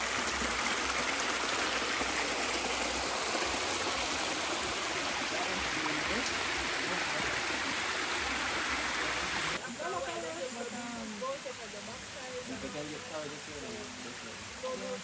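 Stream rushing near a waterfall, a loud continuous roar of falling and flowing water that drops somewhat in level toward the end, with faint voices beneath.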